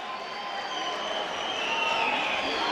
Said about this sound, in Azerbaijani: Alqışlar Ziyad Zeynalovundu